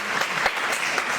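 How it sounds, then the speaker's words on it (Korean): A church congregation claps briefly to welcome visiting family members, a short burst of dense indoor applause. "이렇게 박수로 환영하겠습니다"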